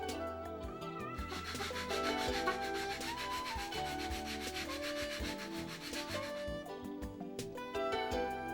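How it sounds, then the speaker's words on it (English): Sandpaper rubbing across the front edge of a wooden cowl block on a model, a steady run of rhythmic scraping strokes heard close up under a tonal, music-like backdrop. "Sand the front edge of the cowl to fit the nose ring as shown here."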